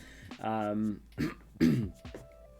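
A man clearing his throat and coughing a few times in close, dry bursts, with a brief vocal sound between them.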